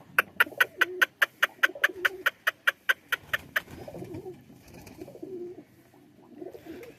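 Pigeons at a coop, one an old bird of the flock, give a run of about fourteen evenly spaced, close repeated calls, then softer low cooing murmurs continue for the remaining seconds.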